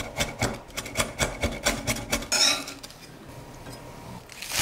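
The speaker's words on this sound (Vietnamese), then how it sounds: "Phần đầu hành thì mình băm nhỏ." A knife minces scallion heads on a cutting board, a quick run of close, sharp chopping taps in an even rhythm for a few seconds, then a short scrape before the board goes quieter.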